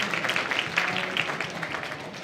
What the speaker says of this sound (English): I think they deserve another round of applause for the performance